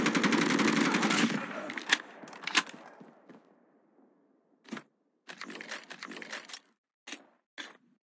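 AK-47 fire in the mobile video game Call of Duty Mobile: a loud sustained burst opens, then single sharp shots and short spaced bursts follow after a quiet gap, with no voices.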